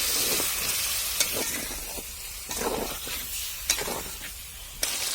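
Fish curry with spices, snakehead fish with cauliflower and potato, sizzling in a pan, a busy crackling hiss with a few sharp clinks of a utensil against the pan.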